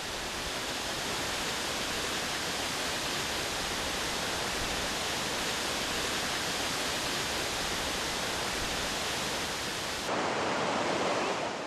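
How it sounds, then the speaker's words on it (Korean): A waterfall at Plitvice Lakes in Croatia roars as a steady, dense rush of falling water, close and continuous with no voices, changing slightly in tone near the end. "폭포를 감상하며 잠시 더위를 잊어볼까요?"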